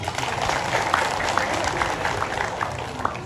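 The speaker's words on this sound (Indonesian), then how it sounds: "Tepuk tangan ibu-ibu." A crowd of mothers at a religious gathering applauds, steady moderate clapping with a few sharper claps standing out, a voice audible beneath it.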